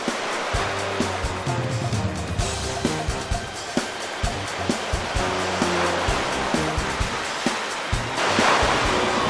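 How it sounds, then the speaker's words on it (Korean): Ocean waves crash and churn continuously on the shore of Christmas Island, a loud rushing surf that surges again near the end, with no voices. "순식간에 밀려온 파도."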